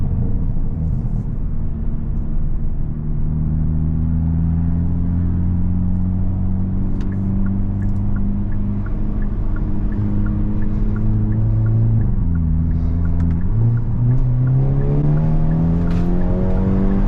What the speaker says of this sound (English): Seriously, the exhaust setup on this Elantra is just so good.